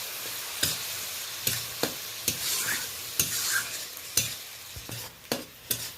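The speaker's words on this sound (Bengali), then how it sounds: "ফোড়নের সাথে আমি গ্রেট করা পেঁয়াজটা দিয়ে ভালো করে নেড়ে নিচ্ছি।" Grated onion fries in spiced oil with tomato puree for an egg and poppy-seed curry, a close sizzle broken by sharp, regular scrapes and knocks of a spatula stirring the pan, with no talking.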